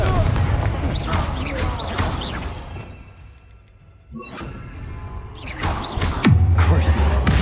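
The Confringo blasting spell in Hogwarts Legacy sets off loud, booming impacts and whooshing magical blasts amid combat noise, with voices speaking over the battle.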